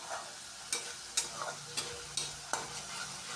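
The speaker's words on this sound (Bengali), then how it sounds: "খুব ভালো করে মশলাটাকে কষিয়ে নিচ্ছি" Bengali ground spice paste, mixed with water and cooked down in oil for a soybean curry, fries with a steady close hiss while a spatula stirs it, giving several sharp scraping strokes against the pan.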